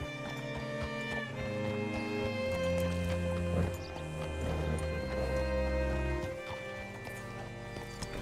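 Horse hooves clip-clop at a walking pace in the video game Red Dead Redemption 2, a soft rhythmic clatter beneath sustained background music and ambience.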